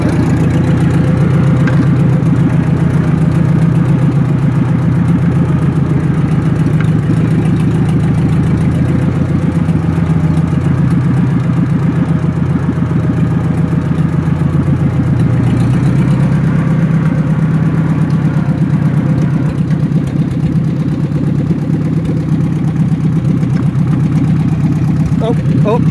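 An old tractor bought for $200, just repaired, runs with a steady low engine rumble close by for the whole stretch, with a voice talking over it now and then.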